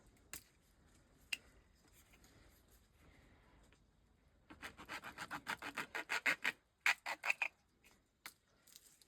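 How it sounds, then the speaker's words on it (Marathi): Cutting a 16 mm drip irrigation pipe to fit a joiner, first a few faint isolated clicks, then a quick run of close, rasping cuts and snaps in a quiet outdoor setting. "ही पाईप असा एक थोडा कट करायचा बघा."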